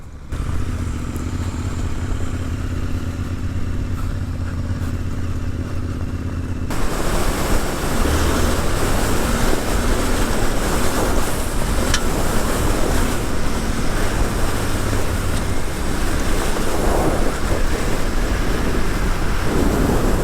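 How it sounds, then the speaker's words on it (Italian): Strong wind roars in a steady, dense rush, growing louder and fuller partway through, with no voices. "Madre che vento, ragazzi."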